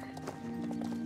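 Horse hooves clip-clopping in the Star Stable Online video game, a steady quick rhythm of hollow clops near and clear over a faint background tone.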